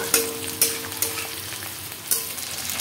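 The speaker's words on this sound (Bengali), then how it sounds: "এবং পেঁয়াজগুলো নেড়ে চেড়ে একটু ভেজে নেব।" Onions frying in a pan make a steady close sizzle, broken by four sharp scraping knocks of a spatula stirring at uneven intervals.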